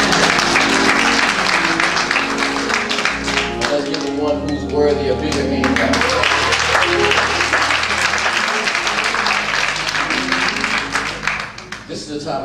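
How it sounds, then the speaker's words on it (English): Church congregation applauding the choir during a Baptist Sunday morning service, a dense, steady wash of clapping that runs the whole length, with a voice speaking over it partway through. "Let's give the choir another round of applause."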